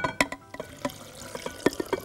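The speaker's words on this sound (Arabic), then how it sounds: "هنحط عصير التفاح بس" Apple juice is poured into a glass for a mint, apple juice and soda drink. Soft, irregular splashes and drips land close by, with a few sharper liquid plops scattered through.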